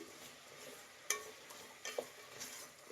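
Radish pieces stirred and fried in a pan give a quiet, low sizzle, broken by a few sharp scrapes and clinks of a spoon against the pan.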